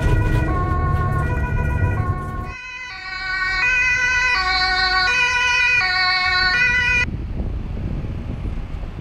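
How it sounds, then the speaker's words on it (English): A loud wailing Swiss police car siren cycles through shifting tones, with road and engine noise beneath during an emergency drive in Zurich, fading near the end. "we are driving with blue lights and sirens switched on."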